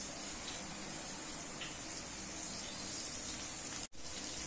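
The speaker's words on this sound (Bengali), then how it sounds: "এবার এই গরম তেলের মধ্যে আমি পেঁয়াজ কুচানোগুলো সব দিয়ে দিলাম।" Chopped onions hit hot oil for a Thai chicken curry and sizzle in a steady, loud hiss like spray, continuous for several seconds with one brief cut near the end.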